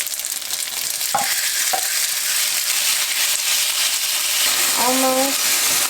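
Garlic frying in a pan, a loud, dense sizzle that runs throughout, with scraping stirring strokes and a brief voice partway through.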